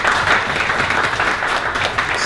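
Loud, continuous applause from a morning audience at a 1 Million Cups Dallas gathering, many hands clapping together at close range as a presenter is welcomed.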